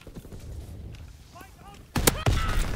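A fighter pilot's strafing run in Call of Duty WW2, heard as quiet game ambience broken by a sudden loud burst of rapid gunfire toward the end, with a voice speaking beforehand.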